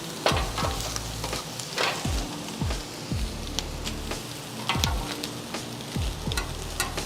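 A grilled sandwich fries on a hot cooking surface, giving a steady, close sizzle with frequent sharp crackles and pops scattered throughout and no voices.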